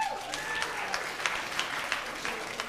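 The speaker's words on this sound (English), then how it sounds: "So round of applause" An audience at a stand-up comedy show claps in a steady, dense patter for a few seconds, with a faint voice slipping in beneath the crowd.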